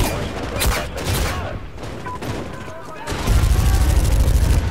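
Rocket strike explosions and rapid gunfire in the video game Medal of Honor burst out in dense bursts, with heavier low booms rolling in toward the end, loud and close.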